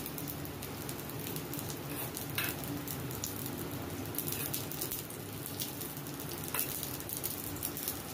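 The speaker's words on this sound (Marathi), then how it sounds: "त्याच्यामध्ये मस्त शालो फ्राय आपल्याला करून घ्यायचं" Bread slices shallow frying in ghee on a low gas flame, a close steady crackling sizzle with scattered pops and brief scraping touches, continuous and without speech.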